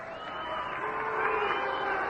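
A World Series Game 6 baseball crowd, Indians at Braves, jeers a runner who ran into the catcher, a steady, loud stadium roar that swells slightly and holds throughout.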